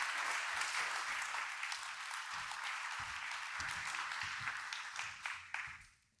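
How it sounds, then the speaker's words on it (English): Warm audience applause at an energy grid industry forum in Switzerland, many hands clapping steadily before thinning and fading out near the end. "A huge applause for that podium"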